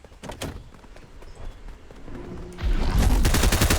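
Gunfire in a shooting video game: scattered single shots early, then a dense loud burst of rapid fire toward the end, with no clear speech over it.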